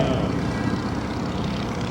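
A propeller-driven aerobatic airplane restarts its engine in flight during a 2008 Blue Angels homecoming air show, giving a steady, fairly loud engine drone with no talk over it.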